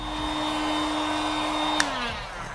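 A steady, loud blowing whir runs throughout, constant in pitch, with a faint click near the end as the motor tone drops slightly.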